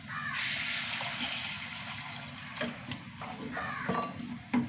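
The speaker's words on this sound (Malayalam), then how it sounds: "ഇനി വെള്ളം ഒഴിച്ച് കൊടുക്കും" Water poured into a pot of raw mango curry seasoned with turmeric gives a steady, fairly quiet splashing gush, followed by a few soft knocks and clinks, with a crow cawing faintly in the background.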